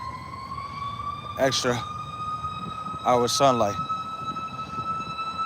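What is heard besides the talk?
emergency vehicle siren passing, likely fire company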